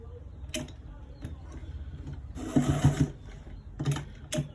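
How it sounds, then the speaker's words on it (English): Sewing machine stitching fabric along a roll collar V-neck seam, bursts of rapid mechanical whirring and ticking between pauses, close by, with a quiet voice faintly in the background. "now I'm stitching it all the way to the end down part."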